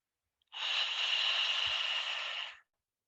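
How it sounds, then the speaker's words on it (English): A long, steady exhale from a deep breathing exercise, with the air pushed out through the chest. It is a close, even breathy rush lasting about two seconds, heard alone. "spine and then breathing out directly through your chest"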